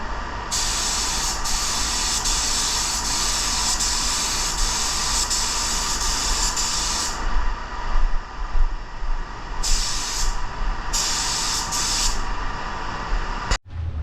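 A spray gun lays copper metal flake paint coats on sample panels for a 1936 Ford, a steady close hiss running for about seven seconds, then two shorter bursts after a pause, ending in a sharp click.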